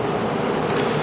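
Dense, steady buzzing of honeybees crowded inside a hive colony, close and continuous.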